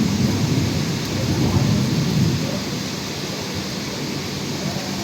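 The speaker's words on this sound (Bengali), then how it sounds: "পুরো বৃষ্টি হচ্ছে, বোঝা যাচ্ছে।" Heavy monsoon rain pours beside a forest in Jhargram, a dense, steady hiss with a low rumble of thunder swelling and fading beneath it.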